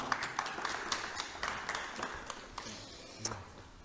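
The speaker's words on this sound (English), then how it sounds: "Shall we give Gabriel a round of applause to begin?" Light, scattered clapping from a lecture audience at a talk on the Peace of Westphalia, quiet and somewhat distant, with individual claps standing out rather than a dense roar.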